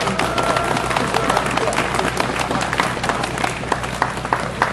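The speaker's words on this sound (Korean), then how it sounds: "여러분 큰 박수로 환영해 주시면 고맙겠습니다" A crowd at an outdoor memorial mass applauds in welcome, with dense, sustained clapping that fills the space evenly and steadily.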